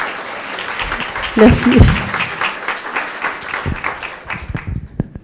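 Audience applause at a round table evening on print and web eco-design, a dense burst of clapping that swells then tapers, with someone speaking over it and a brief thanks.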